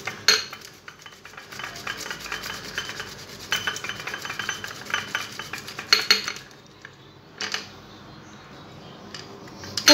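Boiled beetroot is rubbed against a fine metal grater in rhythmic rasping strokes, with light metallic scrapes in between. The strokes come in uneven bursts that pause briefly before the grating starts again near the end.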